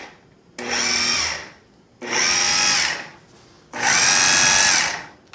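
A food processor pulses potato latke mixture in three short bursts of about a second each, a loud, close whirring buzz separated by brief pauses.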